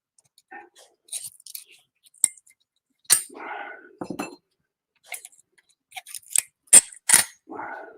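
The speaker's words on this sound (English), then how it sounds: "Just take a screwdriver and pop them off." A screwdriver popping caliper sliders off during front brake work on a 2017 Toyota Camry, giving sharp scattered metallic clicks and clinks with brief scraping, close and fairly loud, in irregular bursts across several seconds.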